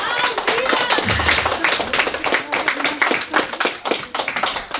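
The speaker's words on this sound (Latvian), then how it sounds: "Pavadīsim arī ar aplausiem mūsu ruķīšus." Applause at a Christmas event sending off performers dressed as elves: close, fairly loud hand clapping that settles into a rhythmic, together beat, with some talk underneath.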